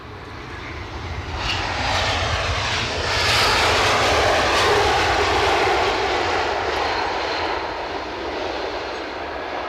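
A Turkish Airlines jet airliner, not a 777, roars past at Edinburgh airport, a broad loud engine rush that swells through the middle and holds steady without fading, no voices over it.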